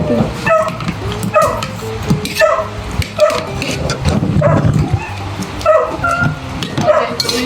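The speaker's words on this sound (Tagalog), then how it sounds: "Maingay naman itong ano. Aso." A dog barks repeatedly in a steady rhythm, loud and close, with yips between the barks, over low household background noise.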